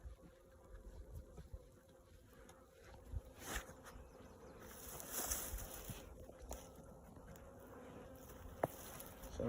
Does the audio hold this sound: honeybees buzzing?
yes